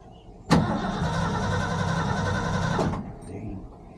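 An old truck that has sat unused since last year, its engine cranked on the battery: a loud, steady starter whir with rhythmic pulsing that lasts about two and a half seconds, then stops without the engine catching.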